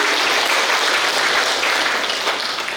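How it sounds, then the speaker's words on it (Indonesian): An audience at an Indonesian ceremony in Jombang bursts into sustained applause, dense loud clapping from many hands that holds steady and tapers slightly at the end. "Boleh berikan tepuk tangan yang luar biasa."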